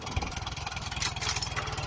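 A Case 700 tractor engine idles in neutral, giving a faint, steady, rhythmic low chugging that continues evenly throughout.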